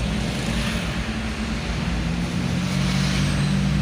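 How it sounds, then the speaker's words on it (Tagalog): Steady road traffic rumbles near SM Baliwag in Bulacan, a continuous dense roar of passing vehicles heard up close with no speech over it. "Medyo ma-traffic dito guys."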